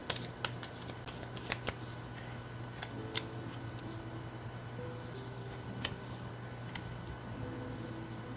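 Tarot cards being shuffled, a string of soft, close riffling clicks and taps scattered irregularly over a faint steady hum, with no voices.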